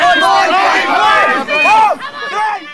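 A large, expectant crowd at a boys' game yells and cheers loudly and close by, with voices rising and falling in excited shouts.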